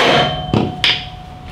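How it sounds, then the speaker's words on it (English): A rubber hammer knocks out the front wheel axle of a 2015 Harley-Davidson Street Glide, giving two sharp, close blows about a third of a second apart over a steady hum, with no talk. "So then we're just take a rubber hammer, and we're going to slightly knock that axle out."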